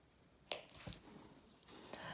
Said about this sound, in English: come in with my heavy duty pliers and cut that strand